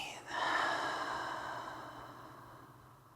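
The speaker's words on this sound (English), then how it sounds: "And breathe." One long, deep breath during a Kaiut yoga class, a near, airy inhale that swells and then slowly fades, heard alone in a quiet room.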